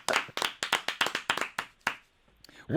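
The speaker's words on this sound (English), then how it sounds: "Give him a big round of applause, Macklemore." A small group claps for Macklemore at Virgin Radio RedFest DXB in Dubai, about a dozen distinct, close claps in a loose rhythm that taper off before a voice begins speaking.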